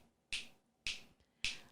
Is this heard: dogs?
no